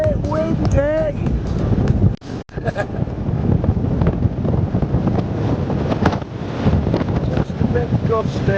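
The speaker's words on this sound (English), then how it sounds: "It's a bit windy!" Strong wind gusts buffet across a steep clifftop on the Dorset coast, a loud continuous roar with brief drops, while people talk over it.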